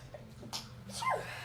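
A single short sneeze, quiet and somewhat distant, preceded by a faint breathy intake over a low background hum.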